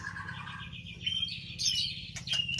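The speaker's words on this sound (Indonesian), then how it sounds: "Ini burung asli Aceh" Native Aceh songbird chirping and warbling in a steady run of bright, close calls, a sharper burst rising near the end over a low background hum.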